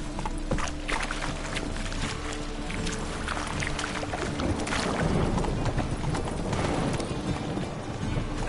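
Hooves of Roach, a horse in a video game, clip-clop at a steady trot under splashing, watery movement, moderately loud and continuous with no talk.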